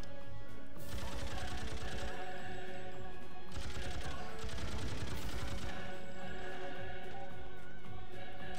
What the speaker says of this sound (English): the machine gun in this game is that it doesn't take 80 million years to reload